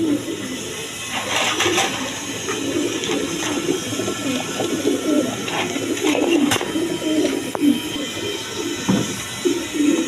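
Many pigeons coo continuously in a dense, overlapping chorus, with occasional sharp clicks and a steady noisy background, like a crowded loft.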